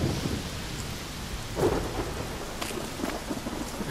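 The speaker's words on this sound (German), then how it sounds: "was ist das hier für ein Gewitter" Thunderstorm with steady rain in the video game The Witcher 3, a continuous hiss of rainfall broken by a close thunder crack and rumbling, with smaller rumbles following.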